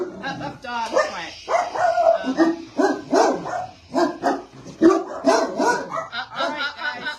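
A dog barks repeatedly inside a house, quick sharp yips and barks arriving in bursts close to the microphone, with people talking over and between them.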